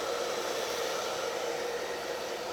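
A hair dryer blows steadily at close range, a constant loud whooshing hum with no pauses and no voices.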